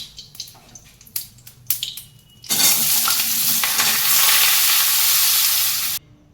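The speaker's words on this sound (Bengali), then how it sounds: "এঁচড়গুলো সব ভাজা হয়ে গেছে ভালো করে" Young jackfruit pieces fry in oil, starting with a few clinks and scrapes of a spoon, then a loud, steady sizzle rises abruptly and holds close and strong for several seconds before cutting off.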